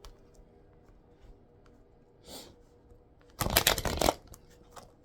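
A deck of affirmation cards is shuffled in one quick riffling burst, with a faint brush of cards just before it, in a quiet room with no talking.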